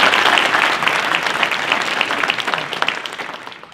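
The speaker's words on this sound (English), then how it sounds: "Let's give all of them a round of applause." Audience applause fills a business chamber event on future economic growth, a dense, loud burst of many hands clapping that holds steady and tapers slightly toward the end, with no voices over it.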